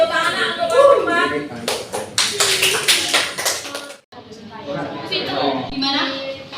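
A classroom group gives applause for the fourth group, a burst of dense clapping from many hands over a couple of seconds, with a teacher talking before and after it.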